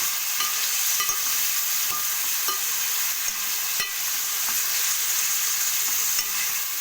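Chicken pieces for a crispy, spicy chicken pickle fry over a low flame, giving a steady, close sizzle with soft crackles and occasional light scraping of stirring throughout.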